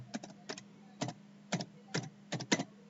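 Typing on a computer keyboard while entering a word into a text box in Microsoft Word, a handful of distinct close key clicks in short irregular clusters over a faint background hum.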